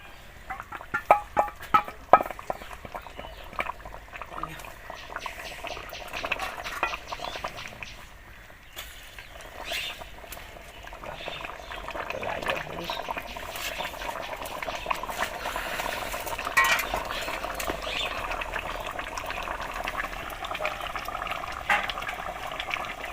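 Duck meat curry bubbles in a pot as it boils, a continuous soft gurgling and popping at moderate level, with faint background sounds and no clear talk.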